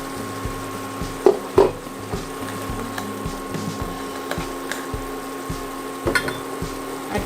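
A utensil scrapes and knocks against a pan in a steady rhythm as chaat masala and other spices are stirred for samosa filling, with a few louder clinks and a faint background hum.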